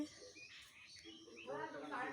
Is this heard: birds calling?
yes